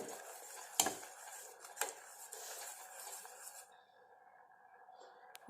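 A spoon scrapes and knocks against a pot while homemade hair dye is stirred, with several sharp clinks over a soft continuous bubbling background that fades out.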